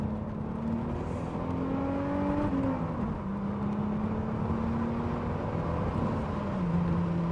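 A Renault Alpine GTA Turbo pulls hard under power on twisty roads, its turbocharged engine producing a steady, close droning whine that rises in pitch, dips at a shift, then climbs again, heard alone without talk.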